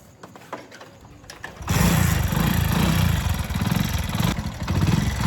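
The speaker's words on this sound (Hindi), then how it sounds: "गड्डी स्टार्ट है।" A motorbike with no working headlight, on the way to a railway station, starts and runs: quiet shuffling and clicks, then the engine catches and holds a loud, steady, close mid-pitched running note with slight fluctuations.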